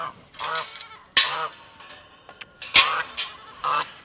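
Several loud, nasal honks from geese close by, coming in irregular bursts with short quiet gaps between them.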